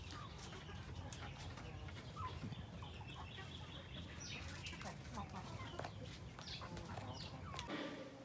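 Chickens and a rooster in a brooding area cluck and call softly over a steady background hiss, with occasional flutters and scattered bird noises, faint and distant.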